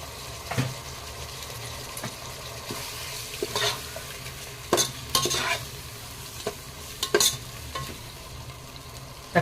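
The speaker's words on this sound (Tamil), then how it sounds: "தக்காளி ஆட் பண்ணி கொஞ்சமாக சால்ட் ஆட் பண்ணிவிட்டு நல்லா வதக்கிக்கோங்க" Tomatoes and salt sauté in a pan for chicken biryani, a soft continuous sizzle broken by intermittent scraping stirs of a spoon, close and moderately quiet, no talking.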